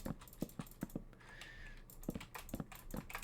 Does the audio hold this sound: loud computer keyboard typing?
yes